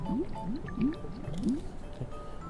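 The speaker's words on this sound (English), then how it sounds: "you take the calcium chloride solution and pour it all the way, just like before" Calcium chloride solution poured from a bottle into a container from a Space Gel science kit, making a quiet run of about five evenly spaced rising glugs and gurgles.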